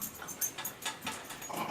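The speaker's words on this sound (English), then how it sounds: "Storm, the Labrador puppy, likes to antagonize Clark" A Labrador puppy whines and whimpers in a series of short, high cries repeating steadily, close by and fairly loud, with no talk over it.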